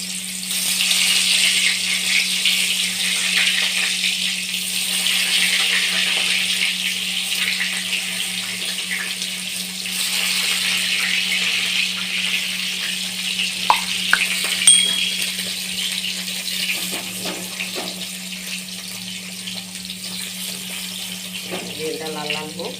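Eggplant pieces fry in oil for a Bengali potato-eggplant dish with poppy seed paste, a soft steady sizzle running throughout with a constant low hum, a few faint clinks of utensils near the end.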